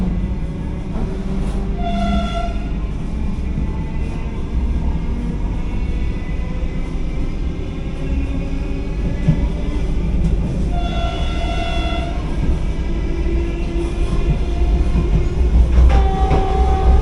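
Vande Bharat Express train departing Dharmapuri station, a steady loud rumble of rail travel heard from on board with rhythmic clatter and repeated horn blasts rising over it, continuous throughout.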